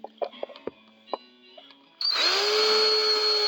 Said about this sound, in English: I'm going to drill the hole through here for my red igniter wire to come out.